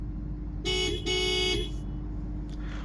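Horn of a 2025 Honda Civic Sport Hybrid sounding two short honks in close succession, loud and near inside the car over a steady low cabin hum.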